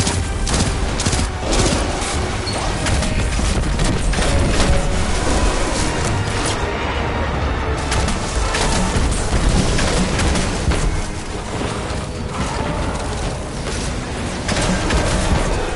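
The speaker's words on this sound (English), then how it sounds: "I got a grenade on him." A grenade blast in a video game shooter, buried inside a dense, continuous wash of gunfire and booming impacts that stays loud for the whole stretch, with no clear standalone explosion.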